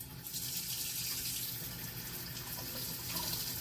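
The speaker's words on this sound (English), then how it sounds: "And now you add water." Water running from a kitchen tap into a container to mix a disinfecting solution, a steady close splashing gush with no talking.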